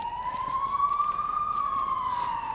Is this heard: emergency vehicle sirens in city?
yes